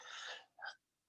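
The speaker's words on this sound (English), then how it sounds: "sorry, I gotta sneeze." A single sneeze breaks off a man's lecture on the US media business: a sharp inhaled gasp followed by a short, explosive burst, close and fairly loud.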